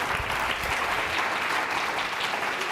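Audience applause at a Latina Leaders Summit, a steady, dense wash of clapping from a large crowd, continuous throughout with no speech over it.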